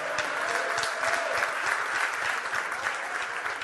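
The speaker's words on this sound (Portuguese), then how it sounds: "Você pode aplaudir nessa noite?" A church congregation claps steadily during an evening sermon, a dense, even wash of applause from many hands that holds without pause.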